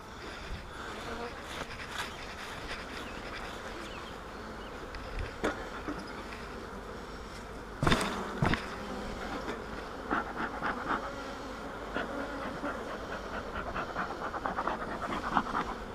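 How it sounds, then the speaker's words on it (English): Honeybees buzzing around a hive being worked with a smoker, a continuous close hum of many insects with a few louder thumps and handling noises partway through. "I got to get these bees back down in that hive"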